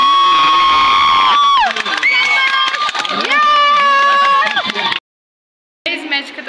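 An audience at a college of education sports meet cheers, shouts and hoots loudly, many voices whooping with rising and falling pitch, near and continuous apart from a brief cut.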